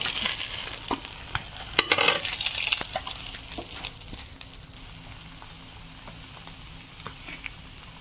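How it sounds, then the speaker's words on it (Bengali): Freshly caught pond fish sizzles in oil in a pan, with scraping stirs and spatula clinks that are busier early on and then settle into a steady, fairly quiet frying hiss, with no talking. "মাছটা ভাজা হয়ে গেছে এখন উঠিয়ে নেব"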